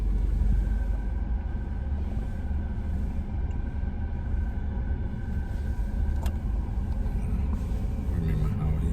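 A car's engine hums in a low, steady rumble from inside the cabin as it drives toward a stop sign during a driver's exam, continuous throughout with no spoken words.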